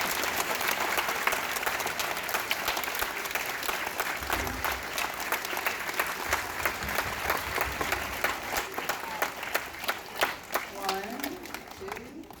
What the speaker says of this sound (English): Let's give our teachers staff a round of applause